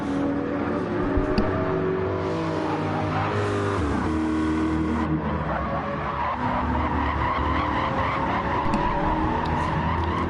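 Race car tyres skid and squeal continuously as a Chevrolet Corvette GR.3 car lapping the Spanish Grand Prix circuit in Gran Turismo 7 wears its rubber, loud and steady over a constant engine drone with no talk.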